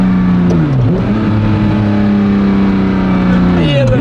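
A car engine hums steadily while driving, its pitch rising and dipping with gear changes and revs, loud and close throughout the stretch.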